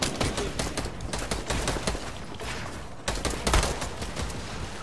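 Rapid assault rifle fire in the Fortnite battle royale shooter crackles in dense, fast bursts that run almost continuously, loud and close, with a short pause before another burst resumes.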